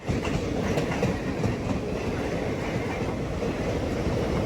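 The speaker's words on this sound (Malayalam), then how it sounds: "ഞാൻ വിൻഡോ തുറക്കുമ്പോഴത്തേക്കും ലോക്കോമോട്ടീവ് പോയി" A Chennai to Thiruvananthapuram superfast train rushes past close by, a steady loud rumble of wagons with rhythmic clickety-clack from the wheels, no voices.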